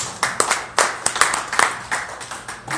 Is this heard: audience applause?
yes